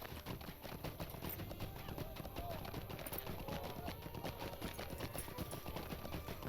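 Horse hooves clip-clop in the game LOTRO, a steady rapid patter of hoofbeats that runs throughout, with a voice talking over it.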